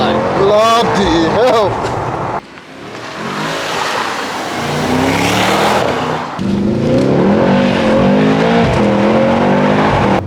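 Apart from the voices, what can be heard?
Mercedes GT63s AMG accelerating in race mode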